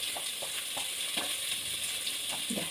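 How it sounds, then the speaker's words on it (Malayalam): Onions and curry leaves frying in hot oil, a dense steady sizzle heard up close, broken by soft rhythmic stirring scrapes every half second or so, with no one speaking. "അപ്പോൾ നമുക്ക് ഇതിലേക്ക് ഉള്ളിയും കറിവേപ്പിലയും കൂടിയിട്ട് ഇട്ട് കൊടുക്കാം"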